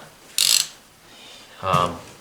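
Socket ratchet snugging intake manifold bolts on a 1956 Buick with an LS engine swap, giving two short bursts of close, crisp clicking separated by a pause.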